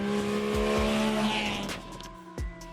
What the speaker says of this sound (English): this engine was a 748cc inline 3-cylinder that was actually a two-stroke motor of all things